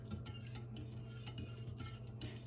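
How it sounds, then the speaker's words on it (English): A spoon stirs jello mix into two cups of cold water in a kitchen, a soft continuous swirling and scraping with light clinks, faint and unbroken, with no voices. "2 cups of cold water. And we're going to stir this around."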